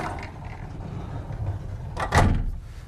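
A sliding pocket door rolls shut inside a 2021 short luxury diesel motorhome, a soft rumbling slide ending in a firm thunk, heard close with no talking.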